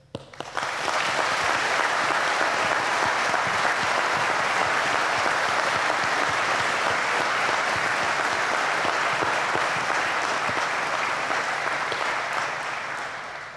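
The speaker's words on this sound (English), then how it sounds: "we'll start off with a good round of applause for you and just say congratulations" A large hall of people applauds at a university graduation ceremony, a thick, even roar of clapping that swells in quickly, holds steady and loud for over ten seconds, then begins to ease off.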